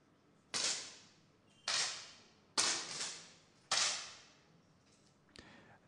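10m air pistol shots in a men's final at an ISSF competition in Bangkok, 2007: four sharp, evenly spaced cracks with ringing decays, then a fainter fifth shot, in a quiet hall.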